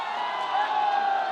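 Crowd cheering and whooping at an open-air election debate in Jamui, Bihar, as party spokespeople are welcomed, a steady, dense wash of audience noise lasting about a second.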